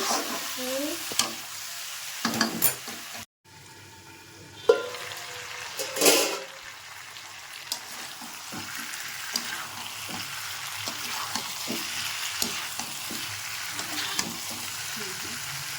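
Jackfruit and prawn curry is stir-fried in a pan, giving a steady, close sizzle of hot oil. Intermittent scrapes and clatters of stirring break through the sizzle, and no voice is heard over it.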